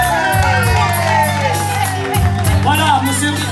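An audience at a care home Miss and Mister pageant applauds and cheers, with sustained clapping and shouts layered over loud music and voices throughout.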